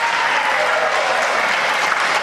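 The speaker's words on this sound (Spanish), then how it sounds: "Está muy bien que aplaudan." Dense, steady audience applause fills a television political talk-show studio, loud and continuous throughout with no break or voice rising above it.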